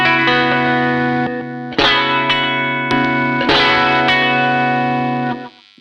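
Electric guitar through a twin parallel overdrive pedal blending clean and boosted sides, strummed chords ringing out with saturated sustain, re-struck several times before being cut off at the end.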